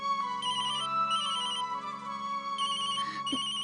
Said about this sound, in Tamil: யார் ஃபோன் பண்றாங்க